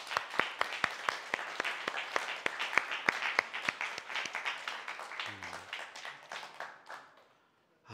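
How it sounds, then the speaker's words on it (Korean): A church congregation claps for about seven seconds, the individual claps distinct and rhythmic before thinning out and stopping into silence. "그 하나님의 느낌에 우리도 한번 박수 칩시다"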